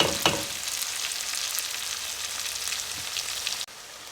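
Serrano peppers cooking down in a hot pan give a dense, continuous crackling sizzle up close, with an early stir, until it cuts off abruptly near the end.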